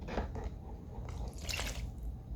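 Alcohol trickles and splashes as it is poured from a measuring cup into a bowl, faint irregular liquid drips and gurgles in a quiet room.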